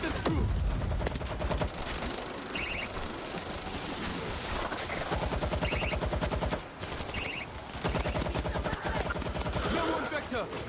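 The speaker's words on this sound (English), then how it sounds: "Let me defend this person as he's using the machine gun." A machine gun fires in long, rapid, steady bursts in the zombie shooter World War Z, loud and continuous with brief pauses between strings of shots, with voices heard alongside.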